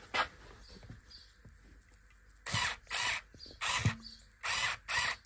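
A screw being unscrewed from a punctured car tyre, a run of short bursts of mechanical rasping and clicking spaced about half a second to a second apart, close and fairly quiet between them.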